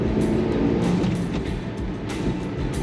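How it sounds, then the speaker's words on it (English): A small 1965 Plymouth Barracuda drives along in second gear, its engine giving a steady, smooth drone with road rumble, close and continuous without any talk. "Smooth running 1965 Plymouth Barracuda."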